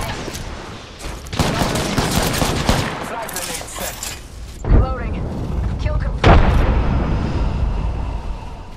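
Sustained gunfire bursts from the video game Apex Legends, dense overlapping shots and a couple of sharper booms near the end, loud and close, with game voice lines mixed in.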